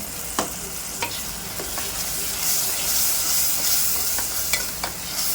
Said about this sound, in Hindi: और मसाले को अब अच्छे से भुनाई करेंगे